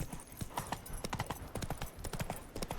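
Hooves of Roach, a horse in The Witcher 3, clip-clop in a quick, uneven rhythm, fairly faint but steady throughout with no one talking over them.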